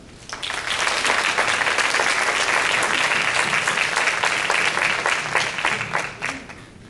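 An audience at a Women in Business Forum on a university campus bursts into sustained, loud applause that holds steady for several seconds before tapering off at the end.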